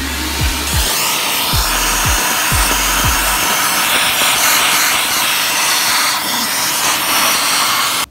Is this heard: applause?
no